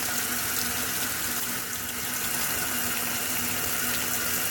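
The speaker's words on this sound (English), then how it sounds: "the beginning initial fills for any rinse, including warm, are always cold" Cold water rushes steadily into a washing machine at the start of a casuals cycle, a loud, even, continuous gush like a running tap, with no talking.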